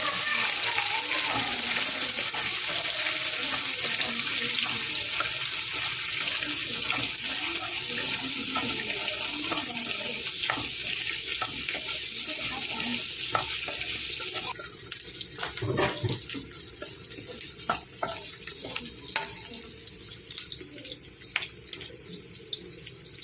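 Onions browning in a pan for a South Indian bisibelebath, a steady broad hiss of frying running throughout, fairly loud and close, easing slightly toward the end.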